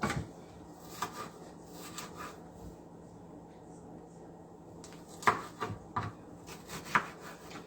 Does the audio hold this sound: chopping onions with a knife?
yes